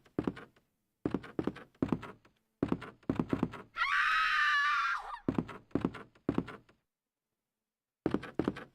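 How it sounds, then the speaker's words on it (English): A high, sustained scream lasts about a second and a half in the classic Resident Evil 2 video game. It is set between steady, evenly spaced thudding footsteps or knocks, with no talk. "She turned around when the scream happened."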